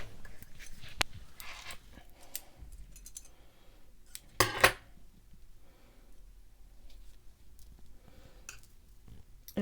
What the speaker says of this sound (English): I'm going to cut the yarn.